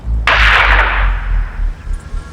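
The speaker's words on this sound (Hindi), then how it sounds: "वहां गन शॉट फायर हुआ।" A single loud gunshot is fired at an engagement function in a village. It is one sharp, close blast followed by a fading echoing tail over low rumble.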